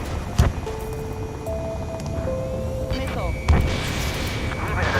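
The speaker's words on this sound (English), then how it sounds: "Strider 3 launching missile" Missile launch in the Ace Combat 7 jet combat game: sharp booming bursts of launch and impact over a steady jet engine whine, with warning tones rising and falling in pitch and a second heavy blast later.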